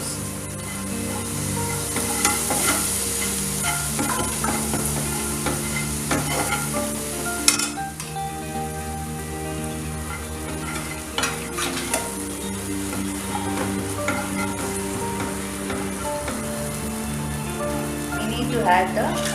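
Fried cauliflower (gobi) being stirred in a pan for cauliflower 65, giving continuous close scraping and sizzling with steady crackle throughout, no talking.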